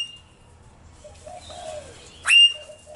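A pet parrot in a home aviary, kept alongside princess parrots, gives a short, loud squawk near the end, after a few softer chirps, with a faint low hum underneath.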